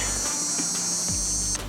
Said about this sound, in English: The cicadas are singing today, as you can probably tell on camera.